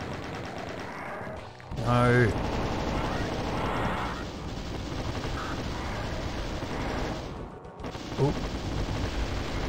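Rapid weapon fire and combat noise from the video game Doom II fill the scene continuously at close range, with a loud burst near the start, while a player briefly exclaims over it.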